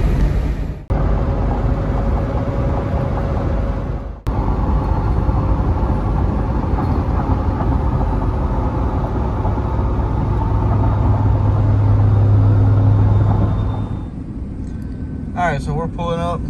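A car drives toward Pike County Speedway with a steady, loud engine and road drone inside the cabin. Two sharp clicks break the hum, and the engine sound drops near the end, while speech stays faint beneath.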